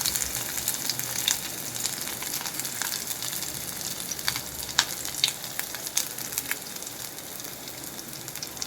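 Green chilli pieces frying in a pan for restaurant-style baby corn manchurian, a continuous hissing sizzle with scattered small pops and crackles, fairly quiet and steady, no talking.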